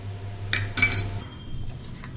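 A utensil beats pancake batter in a bowl, making two or three short, close clinks and scrapes against the bowl over a low background hum.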